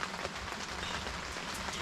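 Steady rain falling outdoors, a dense continuous patter on surfaces at moderate level, with no voices.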